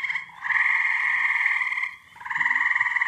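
Tree frogs croaking at night, a loud, close, buzzing trill in two long bursts separated by a brief pause, with no voices.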